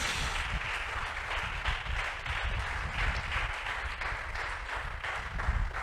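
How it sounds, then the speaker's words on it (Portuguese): Church congregation applauding during a Portuguese-language Bible Day service, a dense, steady wash of many hands clapping together, loud and sustained throughout. "Você pode aplaudir o nome de Jesus."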